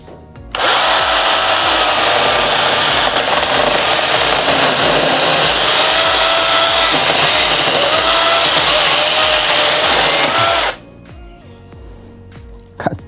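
A Keelat 6-in-1 multifunction drill fitted for cutting runs at high speed, a loud, steady buzzing whine held for about ten seconds before cutting off abruptly, leaving a quiet background.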